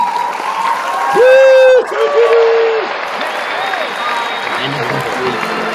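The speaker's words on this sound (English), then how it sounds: "Give her a little applause, Gons." A canned applause sound effect plays during a live talk show stream, a crowd clapping and cheering at moderate level beneath a voice that speaks over it, with electronic tones briefly on top.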